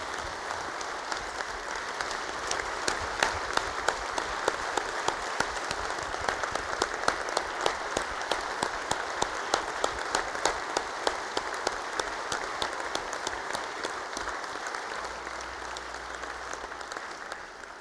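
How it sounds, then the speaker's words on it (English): A state-of-the-state audience applauds the Teacher of the Year, giving long sustained clapping from a large crowd in a hall. It stays fairly steady and ends near the close. "they clapped a lot more for you than they did me"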